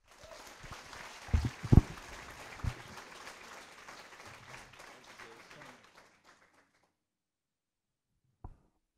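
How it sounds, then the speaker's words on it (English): A talk audience in Laredo gives light applause, a few loud nearby claps over a soft spread of clapping that dies away to silence, followed by a single knock. "let's introduce him with a nice applause"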